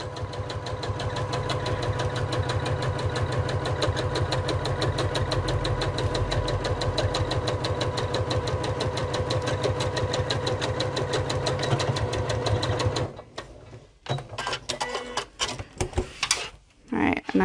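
A sewing machine stitches steadily and fast through a sewn bag, its rapid mechanical chatter continuous for about thirteen seconds, including reverse stitching at the ends, before stopping and giving way to a few scattered handling noises.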